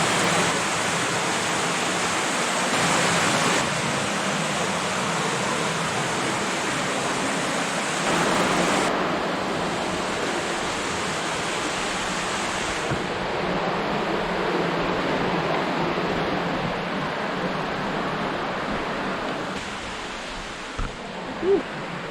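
Laurel Creek water rushes past a washed-out tunnel at Seven Tubs Nature Area, a loud, steady broadband roar that stays dense and continuous throughout with no talk.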